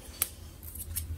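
Scissors snip through a sticker box during a sticker craft, one crisp close cut followed by a couple of fainter snips over a quiet background.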